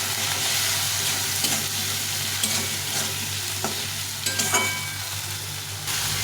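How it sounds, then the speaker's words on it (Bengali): A spice paste with salt and turmeric fries in oil while a spoon stirs and scrapes it around the pan. A continuous close sizzle carries light clinks from the stirring throughout, with no talking. "তার মধ্যে দেবো একটু লবণ আর হলুদ গুঁড়ো এই মশলাটাকে একটু কষিয়ে নিন"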